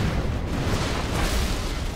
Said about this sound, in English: Battleship commencing bombardment.